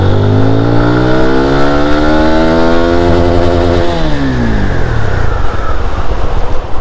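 A GPX Demon GR 165 RR motorcycle accelerates hard, its engine note climbing steadily in pitch, then dropping away into a rougher, gravelly rumble. It stays loud and close throughout, with no voices.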